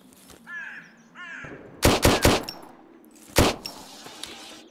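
Pistol shots fired at ghouls in the survival shooter Zero Sievert: a quick burst of three loud, sharp shots, then a single shot after a pause, with faint creature caws earlier.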